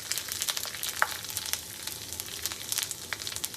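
Ginger fries in hot oil with curry leaves and dried red chillies, giving a steady close sizzle with scattered small pops and crackles and no voices over it.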